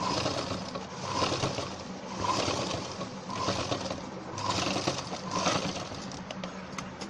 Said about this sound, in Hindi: एकदम जिप की हम जड़ में सिलाई लगा रहे हैं दोस्तों